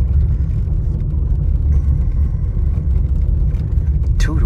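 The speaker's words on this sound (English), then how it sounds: "First time I ever drove in a Mercedes Benz in my life" A Mercedes-Benz two-door convertible drives along with a steady, close low rumble of engine and road noise, fairly quiet overall, with a brief brighter sweep near the end.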